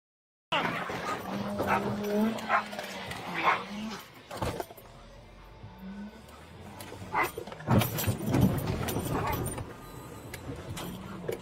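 A police dog barks and whimpers repeatedly during a roadside arrest after a high-speed chase, loud and close, with officers shouting over it and a car nearby.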